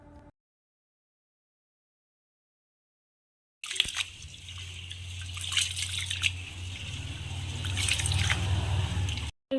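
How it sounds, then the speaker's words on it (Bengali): Biryani rice being rinsed by hand in water, with trickling, dripping and sloshing sounds up close after a short silence, continuing steadily with a low hum underneath. "এই বিরিয়ানির চালটাকে এবার ভালোভাবে জল দিয়ে"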